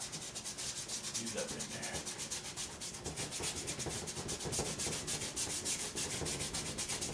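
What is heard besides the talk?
dry brush scrubbing paint on canvas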